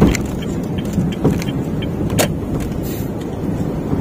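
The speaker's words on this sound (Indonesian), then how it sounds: "kalau di jalan kasar gini baru ada suara keletak keletak keletak keletak" Honda Brio 1.2 driving over a rough road, a steady cabin road rumble with several sharp interior clicks and rattles scattered through it, close and fairly loud, no talking.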